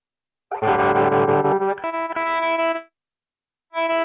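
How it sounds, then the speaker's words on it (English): An electric guitar through a Zoom G1X Four multi-effects unit with volume assigned to the expression pedal plays a sustained chord that tapers away, followed by silence and then a fresh chord. "Volume assigned to the expression pedal for that one."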